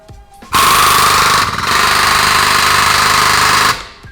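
A pneumatic puller in a car shop, fed by an overhead air hose, blasts on with a loud, harsh hammering roar for about three seconds, dips briefly midway, then cuts off sharply.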